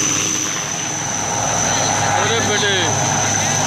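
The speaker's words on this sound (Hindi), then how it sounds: "मेरे पीछे हेलीकॉप्टर है, वो हेलीकॉप्टर उनको रेस्क्यू कर रहा है।" A rescue helicopter flies overhead during a flood near Garjia, its steady rotor and engine drone continuous and fairly loud throughout, with someone speaking briefly over it.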